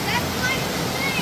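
Waterfall along a hiking trail on Oahu, Hawaii, gives a steady broad rushing wash of falling water, moderately loud and unbroken for a brief moment.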